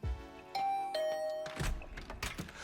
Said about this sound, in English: I'll ring the doorbell just in case.